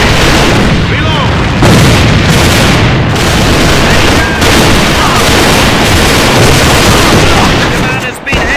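Grenade blast and gunfire in the online shooter game A.V.A, very loud and dense, with booming explosions and continuous rapid shots filling the whole clip.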